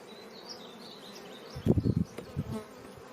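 Honeybees swarm around open beehive frames during a hive inspection. A soft background hum swells after a moment into a loud, close burst of buzzing, with several pulses of wingbeats passing near.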